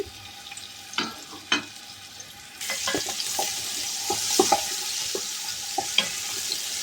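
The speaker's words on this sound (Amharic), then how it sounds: "ዘይቴ ከጋለ በኋላ ሽንኩርት እጨምራለሁ" Chopped onions hit hot oil in a cooking pot, a few sharp knocks giving way to a sudden rising sizzle that continues under scattered clinks and stirring taps, close up with no voices.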